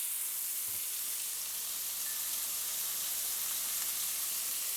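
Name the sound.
onions added to a hot pan, sizzling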